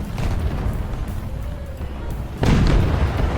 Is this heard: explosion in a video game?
yes